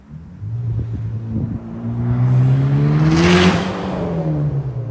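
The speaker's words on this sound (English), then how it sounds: "take it down the road and of course hear how that new exhaust sounds" A Mitsubishi Evo 8 with a new exhaust drives past, its engine note rising as it accelerates and swelling loud as it nears, a rumbling exhaust tone with a brief rushing peak, no voices.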